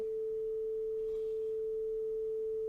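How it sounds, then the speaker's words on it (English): A pure 440 Hz sine wave tone on the note A holds as one steady, unwavering electronic pitch for nearly three seconds, with no voice over it. "a sound wave that has a frequency of 440 Hertz and sounds something like this"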